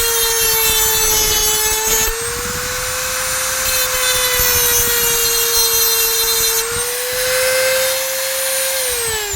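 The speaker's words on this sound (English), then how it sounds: "You got to use this Dremel like that. Just cut it like this." A Dremel rotary tool cuts steadily into the steel steering lock of an Audi Q7, giving a loud, continuous high-pitched whine that dips briefly in pitch around two seconds in and again near the end. No one speaks.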